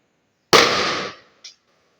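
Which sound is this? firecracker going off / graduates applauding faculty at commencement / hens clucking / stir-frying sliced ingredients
firecracker going off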